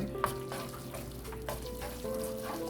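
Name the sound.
noodles being stir-fried in a pan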